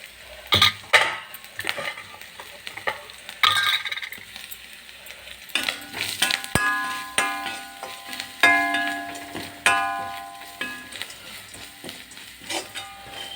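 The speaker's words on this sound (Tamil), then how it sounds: "தேங்காய் துருவல் வந்து கொஞ்சம் பொன்னிறம் ஆகிற வரைக்கும் வறுத்துருங்க" Grated coconut roasting in a pan, with a low background sizzle under repeated clinks and scrapes of a metal spoon against the pan at an irregular pace, close and fairly loud, no voices.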